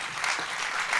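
A conference audience applauds with dense, steady clapping throughout, filling the short moment with no pause.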